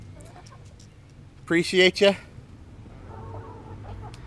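A chicken gives a brief burst of a few quick clucks close by, and a voice speaks softly afterward.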